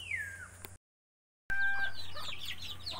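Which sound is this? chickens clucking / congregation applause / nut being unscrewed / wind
chickens clucking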